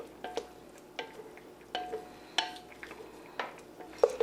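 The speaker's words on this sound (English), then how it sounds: "Give it a nice stir." A spoon stirring grated Parmesan into a pot, with distinct metallic clinks and scrapes against the pot recurring roughly every half second to second, close and fairly quiet.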